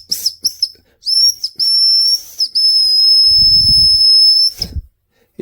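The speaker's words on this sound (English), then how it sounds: "This whistle, nice design, but it is not very loud." A small whistle on a 17-in-1 multitool blown in several short toots, then two long steady shrill blasts, fairly thin and not very loud, with a brief low rumble partway through.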